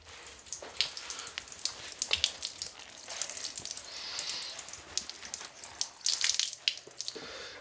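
Water is squeezed and wrung out of a wet handmade wool felt sheet, giving irregular splashes, drips and trickling bursts that rise and fall close by, with no talking.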